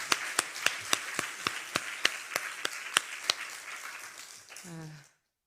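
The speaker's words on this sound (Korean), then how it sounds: "박수 한 번 더 해주세요." A church audience claps in a steady, fairly quick rhythm of separate claps that stops abruptly. A voice speaks briefly near the end before silence.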